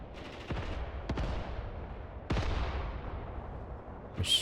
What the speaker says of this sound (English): Mortars are now impacting